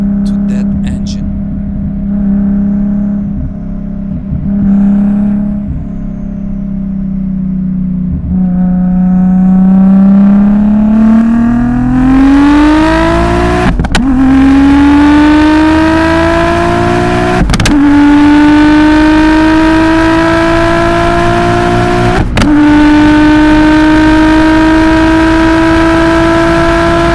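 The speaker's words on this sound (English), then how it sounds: "Just listen to that engine." Loud, close engine of a modified Audi S4 B5 at speed on a night autobahn, droning steadily, then climbing in pitch through several sharp gear changes as it accelerates.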